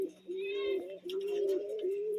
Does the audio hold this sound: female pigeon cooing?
yes